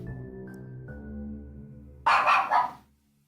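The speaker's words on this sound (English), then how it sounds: "Oh, you're barking." After a steady electronic tone, a dog gives two quick barks, fairly close, and then things go quiet.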